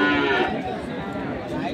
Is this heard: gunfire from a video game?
no